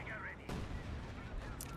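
Königstiger tank cannon firing in a World War II strategy game: a single loud, sudden boom near the middle, set against dense background battle noise and talk.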